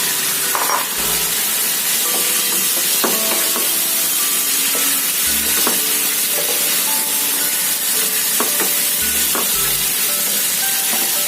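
Fried potatoes and boiled eggs go into a hot pan of spiced onion-tomato masala for a Bengali egg curry. A steady sizzle runs throughout, with a few low thumps and scrapes as they are stirred.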